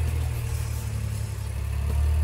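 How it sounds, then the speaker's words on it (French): Tractor engine arriving on a farm: a steady low rumbling motor, fairly close and continuous, growing slightly louder toward the end. "Il fallait bien qu'il revienne avec le tracteur."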